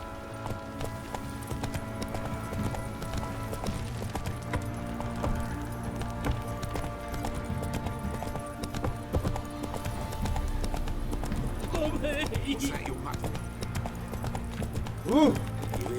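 In The Witcher 3 video game, a horse runs with rhythmic clip-clop hoofbeats under ambient game sound, moderately close, with brief voices and a sharper sound near the end.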